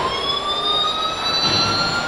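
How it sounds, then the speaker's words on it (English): Toy siren sounds triggered by push buttons wail with rising pitch at a children's attraction, steady and fairly loud over a busy outdoor background. "Sirens going on."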